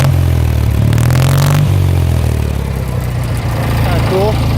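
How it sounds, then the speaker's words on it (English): A GT's engine idles steadily through an aftermarket muffler mounted under the running board, a loud, continuous low rumble with a brief rise in pitch early on. Someone talks over it. "That muffler that goes under the running board here. It sounds pretty nice."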